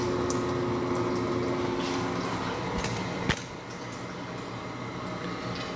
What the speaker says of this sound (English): We get our output. And the coolant comes on.